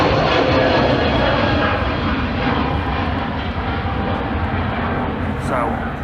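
A Turkish Airlines jet roars in a steady, broad engine rumble at Manchester Airport, heard continuously beneath a person talking nearby.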